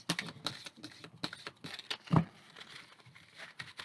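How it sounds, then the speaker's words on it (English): A deck of oracle cards being shuffled by hand, heard as a quick run of soft, close papery taps and flicks, with one louder slap near the middle and no talking. "I'll try to do the shuffle and then cut the deck."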